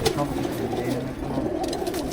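Breeder pigeons, a collection of females among them, coo steadily in a close, continuous low murmur of overlapping calls filling the coop.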